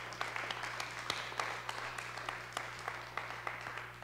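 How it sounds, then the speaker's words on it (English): Applause from a church congregation during a live service, faint scattered clapping with sharp individual claps standing out over a low steady hum. "I would like you to give them a nice round of applause."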